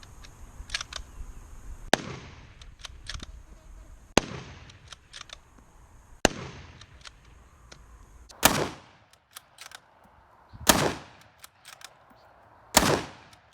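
Six sharp, loud gunshots from a firearm fitted with a Brinyte PT18Pro weapon-mounted flashlight, fired singly at a steady pace about two seconds apart, with quieter sound between them and no talking.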